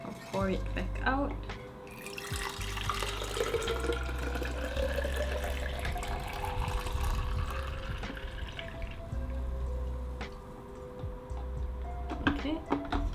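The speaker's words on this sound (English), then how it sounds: "I'll pour it back out" Film developing stock bath is poured back out of a developing tank, a continuous close trickle and splash of liquid running for several seconds while a person talks over it.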